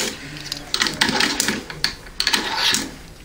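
An M1919 belt loader feeds .30-06 cartridges into a machine gun belt, giving a quick run of sharp metallic clicks and clacks in an irregular, steady mechanical rhythm, close and moderately loud.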